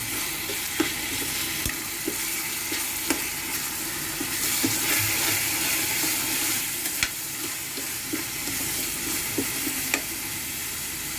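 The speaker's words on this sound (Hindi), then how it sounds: "ये देखो मैंने प्याज और वो टमाटर और हरी मिर्च भी डाल दिया" Onion, tomato and green chilli fry steadily in a pan for a poppy-seed and cashew curry, with a continuous close sizzle broken by soft scraping stirs and occasional sharp spatula taps.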